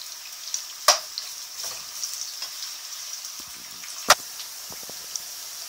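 Chopped onions frying in hot oil in a pan, a steady soft sizzle running throughout, broken by two sharp clinks of a utensil against the pan and a few quieter scrapes.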